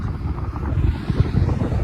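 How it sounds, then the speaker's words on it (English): Strong wind buffets the microphone in low, uneven gusts, a steady roaring rumble with no voices. "It's very windy."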